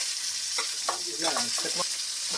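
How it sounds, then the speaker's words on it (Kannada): Tomatoes tipped into a pan of frying leafy greens with garlic give a steady close sizzle, with a few brief stirring scrapes and soft splats over the hiss. "ಈಗ ಇದಕ್ಕೆ ಟೊಮೆಟೊ ಹಾಕೊಳತ್ತೀನಿ."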